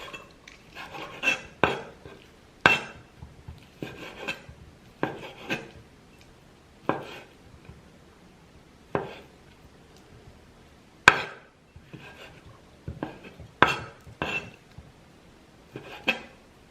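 Knife chopping chicken and bacon into chunks on a board, a series of sharp, irregular knocks and scrapes spaced through the stretch, fairly close but quiet, with no talking.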